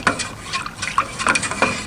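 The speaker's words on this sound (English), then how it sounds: "Always stir your stain up." A can of wood stain being stirred by hand in a workshop, producing repeated close scraping and knocking strokes of a stick against the metal can in an uneven rhythm, with no talking.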